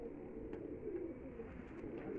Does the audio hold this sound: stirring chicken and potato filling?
no